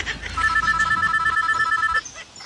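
A telephone rings with a steady, rapid electronic trill lasting about two seconds, fairly loud and close, then stops, leaving a quiet room.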